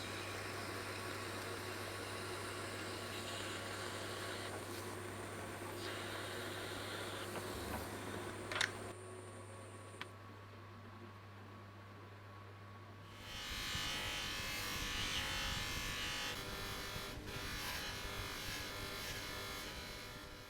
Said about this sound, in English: I'm going to have to go throw it back on the other lathe